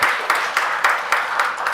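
Audience applause at a Teachers' Day award ceremony in Hyderabad, a dense, steady wash of many hands clapping with rhythmic surges, loud and close, with no speech.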